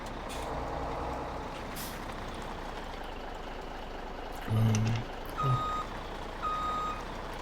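A tipper truck in Farming Simulator 17 rumbles steadily, then a short air-brake hiss is followed by two separate, clear electronic reversing beeps over the engine drone.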